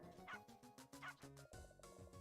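A dog in a video game gives a few quiet yips and barks over soft, tonal game music.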